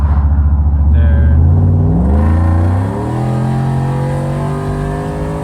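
A Dodge Hellcat with a newly installed fuel pump and leaking exhaust revs loudly while driving, the engine note climbing steeply through the gears before settling into a steady roar.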